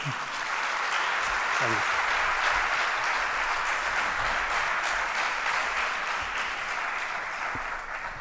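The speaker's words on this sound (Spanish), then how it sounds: "recibimos con un fuerte aplauso a Miguel Pedrero" Sustained audience applause welcoming a speaker fills the whole stretch, steady dense clapping from a crowd with a few voices faintly mixed in.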